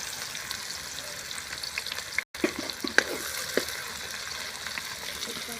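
Finely chopped onions frying in a pan for a paneer and vadi curry, a soft steady sizzle with a few faint clinks and stirring sounds, no talking.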